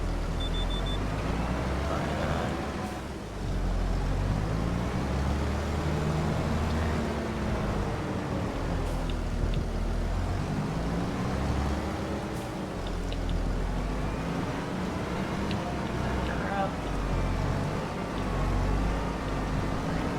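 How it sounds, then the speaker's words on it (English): Fendt 728 tractor driving through mud during autumn rain in Farming Simulator 25: a steady, loud engine drone that rises and falls gently in pitch over a constant broadband rumble, continuing without a break. "This tractor is having absolutely no problems with the mud."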